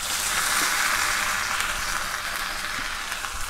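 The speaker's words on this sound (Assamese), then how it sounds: "এতিয়া মই আলুখিনি ৰঙাকৈ ফ্ৰাই কৰিম" Potatoes fry in oil for an egg curry, a loud continuous hiss of sizzling fat that stays even throughout, heard close with no speech.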